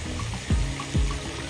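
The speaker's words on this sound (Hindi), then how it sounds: "ये पानी का चश्मा।" An artificial water fountain in a park in France runs nearby, a constant trickling splash with two brief heavier gurgles in quick succession.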